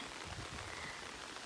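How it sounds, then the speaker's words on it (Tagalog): Heavy rain pours down as a dense, steady broadband hiss with no breaks, loud and close for the whole moment. "Ulan na kaayo."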